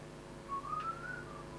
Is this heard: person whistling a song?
yes